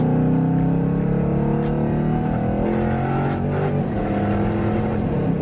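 A built Jeep Trackhawk engine held at wide open throttle, a loud, sustained, steady roar with strong low harmonics that barely wavers across the stretch, close to the listener and with no voices over it.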